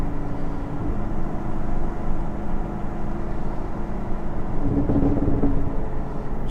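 2019 Chevrolet Camaro SS V8 cruising a winding mountain highway, a steady low engine rumble heard from inside the car, constant and moderately loud with a slight rise in tone near the end, no talk.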